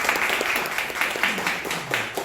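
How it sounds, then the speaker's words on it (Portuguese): An audience at a technical visit to an INSS social security office in Arapiraca claps together in a steady, moderately close burst of applause, with faint voices mixed in. "Aplaudir o doutor Danilo."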